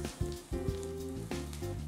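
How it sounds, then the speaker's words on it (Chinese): A thick steak fries on a hot iron griddle, giving a soft, continuous sizzle with faint crackling spatters, fairly quiet and close, with no voices. "但煎这个排还蛮疗愈的"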